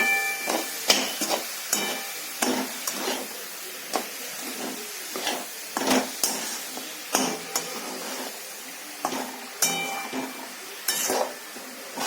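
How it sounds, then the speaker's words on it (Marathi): Melting sugar and grated coconut being stirred in a pan over low heat for coconut barfi, with repeated scraping and clinking strokes of the spoon against the pan and soft bubbling between them. "मंद आचेवरच त्याला ढवळत राहायचं."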